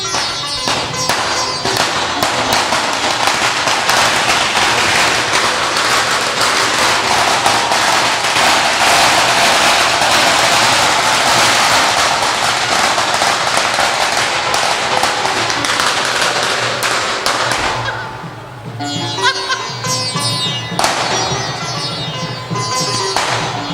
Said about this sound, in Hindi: ये 555 पटाखा फूटे